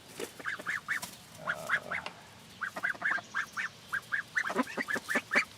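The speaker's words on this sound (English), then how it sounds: "Sounds like they're all in their little duck coop in here." A flock of nine Indian runner ducks quacks inside their duck coop, a steady run of short, nasal calls in quick bursts, some overlapping, close by with brief pauses between.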